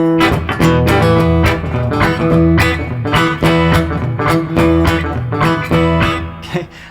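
An electric or acoustic guitar plays short blues riffs in a hill-country style, plucked notes and bass strums in a loose driving rhythm, loud and close with no talking.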